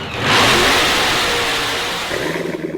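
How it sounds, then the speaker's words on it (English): A Corvette sports car engine revs hard, surging up loudly and close, then easing back to a throbbing, slightly uneven idle near the end. "You hear that? That's the sound of America's only sports car."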